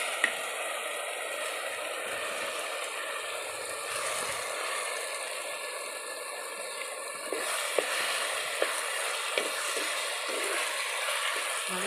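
Cooked papaya being stirred in a pan with softened tomato and onion, a steady soft sizzle with faint scraping and a few light clicks of the spoon against the pan, continuous and close.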